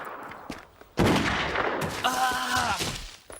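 Animated gunfire breaks out in sharp, loud volleys, a burst of shots followed by sustained crackling fire with a few tonal echoing cracks, close and dense over a couple of seconds.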